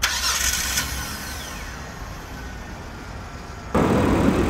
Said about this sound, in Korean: 제가 엔진 소리 한번 들려드리도록 하겠습니다